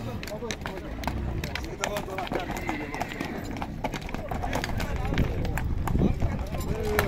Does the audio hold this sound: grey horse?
yes